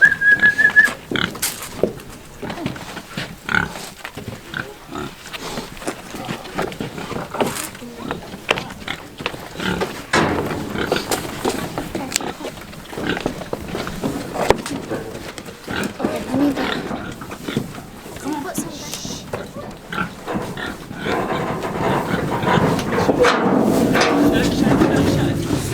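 Pigs grunt and squeal at close range while being loaded at a ranch, scattered calls over a long stretch with shuffling, rising to a busier, louder jumble near the end.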